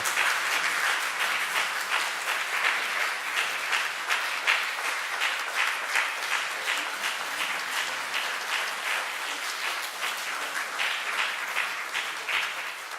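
Worshippers in a church applaud together, a sustained, even wash of many hands clapping that carries on for over ten seconds without talk.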